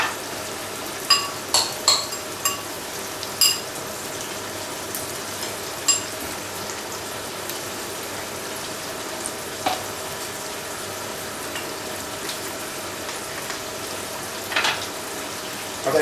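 Curry ingredients fry in a pan with a soft, steady sizzle throughout, broken by a few sharp utensil clinks early on and occasional faint stirring sounds.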